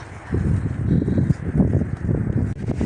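Gusty wind buffeting the microphone, a continuous low rumbling roar that rises and falls throughout, loud and close.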